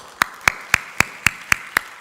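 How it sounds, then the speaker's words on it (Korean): An audience at a church gathering claps in tight unison, eight crisp, evenly spaced claps in a quick, steady rhythm with no voices. "박수"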